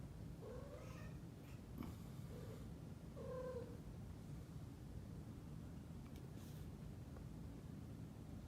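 Kittens mewing in a played-back recording, a few faint, thin meows near the start over a steady hiss of background noise, then mostly quiet.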